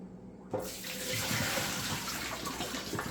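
Water pours in a steady, splashing stream from a ZeroWater 30-cup Ready-Pour filter dispenser, starting abruptly and running continuously, close and moderately loud with no talk.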